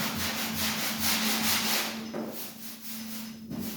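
Steady abrasive rubbing of 80 grit sandpaper over a dented car body panel, continuous close scraping strokes with a faint steady hum behind, brief pause near the end.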